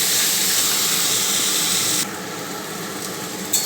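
Taro greens sauté in a hot pan with a loud, steady sizzling hiss that drops abruptly partway through to a quieter crackle, then flares briefly near the end.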